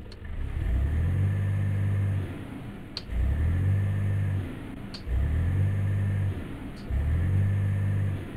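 A Kamaz-5490 truck with a V8 engine in Euro Truck Simulator 2 revs repeatedly, deep rumbling throttle swells rising and falling in a steady cycle, with sharp clicks between each rev and no talking.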